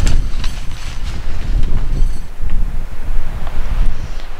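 Strong wind gusts outdoors beside a hunting tent blind, roaring and buffeting a nearby microphone continuously throughout with rushing, rumbling noise and no voices.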